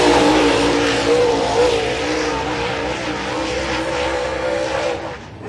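A late model race car with a Longhorn chassis and Scott Bailey power runs on the dirt oval at Cedar County Speedway, its engine roaring loud and steady at close range through the whole stretch.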